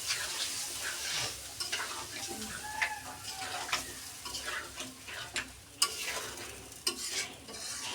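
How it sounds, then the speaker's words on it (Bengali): Spice paste with salt and a little water being sautéed in a pan, giving a soft, close sizzle broken by scraping stirs and light clicks of the utensil, fairly quiet overall. "এখন মশলাটাকে সুন্দর করে কষিয়ে নেওয়া হবে"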